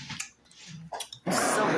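Crunchy chewing of deep fried turtle, a few close wet crunches and clicks at first, then a loud dense burst of crackling bites toward the end, with no talk over it.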